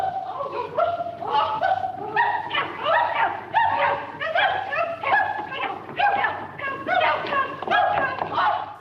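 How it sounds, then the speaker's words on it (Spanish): Several dogs bark and yip repeatedly in an old 1930s film excerpt, a busy overlapping chorus of barks with some whimpering, steady and fairly close throughout. "Usó el ladrido de unos perros para burlarse de unas señoras."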